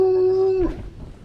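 A hound dog gives a single loud, steady howl held for over half a second, then breaking off into quieter rustling outdoors.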